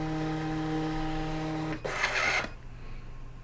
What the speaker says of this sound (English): The printer will calibrate by feeding 2 sets of tags through the printer.